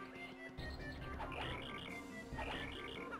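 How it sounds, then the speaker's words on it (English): Steady cricket chirping from the video game Paper Mario: The Thousand-Year Door repeats in short high pulses over a quiet game ambience. "That's the sound of a cricket."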